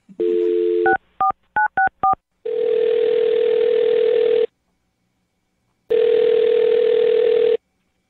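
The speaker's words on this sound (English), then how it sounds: "Okay, I'm going to dial his phone number right now." A telephone call being dialed: a dial tone, then a quick run of touch-tone keypad beeps, followed by two long ringback tones separated by silence.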